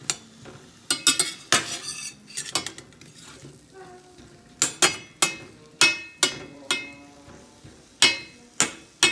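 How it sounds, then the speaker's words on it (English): Zucchini being stirred in a pan at home, with a utensil clattering and scraping against the metal in repeated sharp knocks, close and fairly loud, over a faint background sizzle. "I guess you need to stir it."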